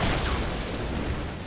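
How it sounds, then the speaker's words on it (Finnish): An explosive barrel in the video game Fortnite is shot and blows up, giving a dense, loud boom that roars on through the whole moment with no talk over it. "Hei räjähtävä! Mä ammun sen tynnyri."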